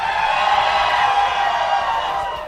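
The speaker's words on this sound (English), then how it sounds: "Crowd, yell something." Live radio studio audience at Alternative 99X yelling and cheering, a sustained burst of whoops and shouts from a crowd that holds steady, then fades slightly at the end.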